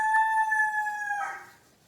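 A rooster crows loudly and close by while a cook stirs a roux for shrimp étouffée. It is one long, ringing cock-a-doodle-doo lasting over a second, then it fades into quiet with no talking.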